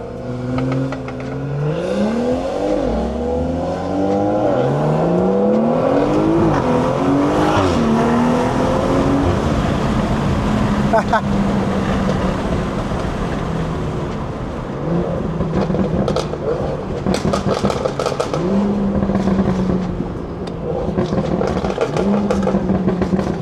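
BMW 340i with a B58 engine, stage 2+ tune and catless downpipe, heard from inside while driving: loud, continuous engine note climbing through gears with repeated rising revs, then steady cruising drone.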